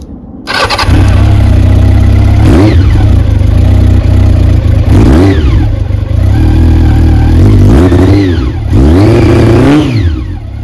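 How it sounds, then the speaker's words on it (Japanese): A cold engine, from either a Nissan R32 GT-R or a Honda CB750, cranks and catches, then idles roughly with three or four loud, close revs rising and falling. "エンジンもかけてみる。"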